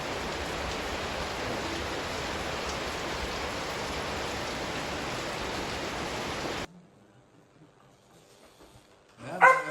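Heavy rain pours down as a dense, even roar for several seconds, then cuts off abruptly into near silence before a brief rustling noise.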